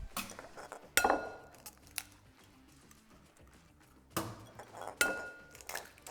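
A few sharp clinks from eggs cracked one-handed against a glass bowl for cottage cheese pancakes, sounding as separate close taps with quiet pauses between them.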